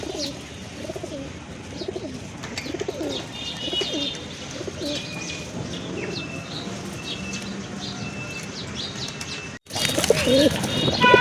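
A pair of pigeons coo softly and repeatedly amid background chatter of other birds, then wings flap loudly and close by near the end.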